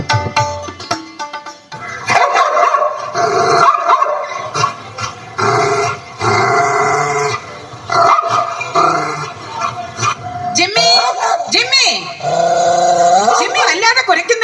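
A dog barks, growls and yips in bursts within a solo stage drama, mixed with loud spoken voices over roughly fourteen seconds.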